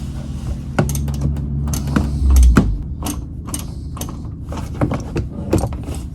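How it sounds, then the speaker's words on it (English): A small ratchet works a 10mm bolt free behind a trim piece on a 2013-2023 Subaru Crosstrek during a fog light install, giving close, irregular metallic clicks and taps over a low background hum. "I just used a small ratchet, put that in there"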